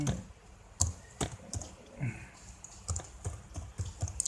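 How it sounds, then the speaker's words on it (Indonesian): Someone typing an IP address on a computer keyboard, a string of close, light key clicks in an irregular rhythm with brief pauses between them. "Saya ketikkan dulu IP-nya 1."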